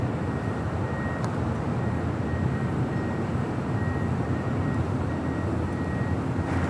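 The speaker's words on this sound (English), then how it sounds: "That was JetBlue Airways flight 880 heading to Las Vegas." A JetBlue Airways jet airliner departing Los Angeles International Airport, a loud steady engine roar with a thin constant whine running through it, sustained from start to finish.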